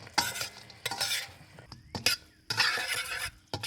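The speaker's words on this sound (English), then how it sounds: "So I'm going to put the taro in it. And you keep stir it until they" Taro pieces being stirred in thickened sugar syrup in a pan, giving bursts of scraping, bubbling sizzle with brief pauses between strokes, close and fairly loud, no talking.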